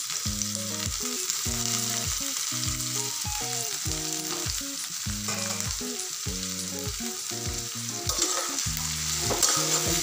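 Sliced bitter gourd frying in oil, with a constant hiss and a repeated, evenly spaced tonal pattern running throughout at a fairly close, moderate level, with no speech.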